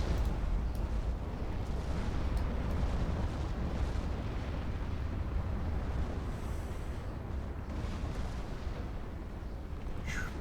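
Warship guns firing during a naval battle video game, heard as a dense, continuous rumble of distant booms and blasts that runs steadily from start to finish at an even loudness.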